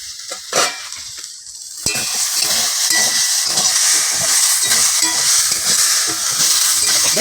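Chopped jute leaves fry in a hot pan with a steady loud sizzle, while a spoon stirs them in repeated rhythmic scrapes and knocks against the pan, close and continuous.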